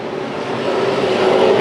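SRL Spears tour race car engine under power at Irwindale Speedway, a loud sustained roar with a rising, straining tone as the car accelerates close by, no speech over it.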